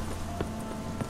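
In the video game Witcher 3, a horse's hooves clip-clop faintly over a low background hum, with two distinct hoof strikes in a very short moment.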